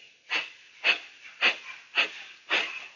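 Five forceful, rhythmic exhales through the nose during a yoga breathing exercise, each a sharp airy puff spaced about half a second apart, close and clear with quiet between them and no talking.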